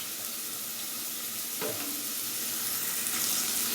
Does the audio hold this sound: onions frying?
yes